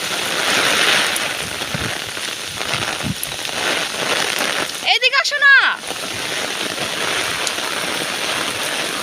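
Strong rain drums and hisses continuously close by, while someone speaks briefly in the middle.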